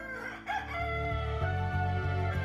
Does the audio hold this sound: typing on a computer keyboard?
no